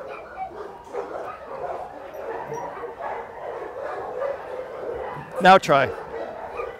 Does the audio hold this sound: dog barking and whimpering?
yes